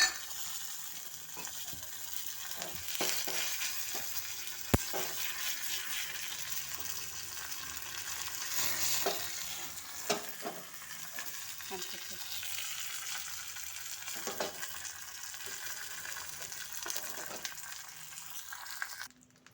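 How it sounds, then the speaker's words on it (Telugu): Mustard seeds, cumin, a dry red chilli and curry leaves sizzling in hot oil as a tempering for onion chutney, a continuous close crackling fry with scattered popping, scraping and clinking throughout. "ఇదిగో దీనికి తాలింపు కొంచెం ఆవాలు జీలకర్ర ఒక ఎండుమిరపకాయ కరివేపాకు"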